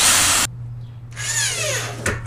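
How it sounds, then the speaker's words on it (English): Power drill used while removing a car bumper, a loud burst of high whirring that cuts off, then starts again with a rising whine under a steady low hum. "Power drill."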